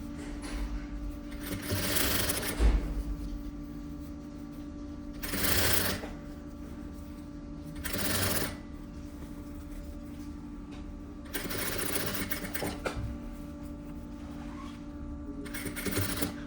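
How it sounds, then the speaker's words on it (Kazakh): A sewing machine runs in several separate bursts while stitching a seam on a boy's vest, its close whirring rattle starting and stopping over steady quiet hum. "Осыны айналдырып тігіп шығамыз 1 см тігіспен."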